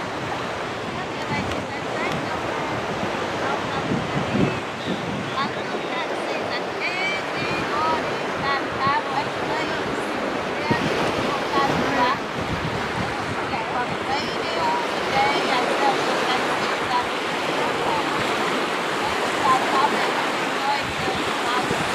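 Sea waves wash onto a wide sandy Baltic Sea beach right at the water's edge, a continuous rushing surf with wind buffeting the microphone and no clear pauses.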